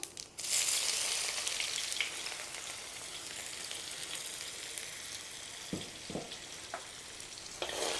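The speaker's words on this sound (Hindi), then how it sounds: "बढ़िया प्याज भून दीजिए।" Chopped onion fries in hot oil with cumin and asafoetida, a constant close hiss and crackle with a few knocking stirs toward the end and no voices.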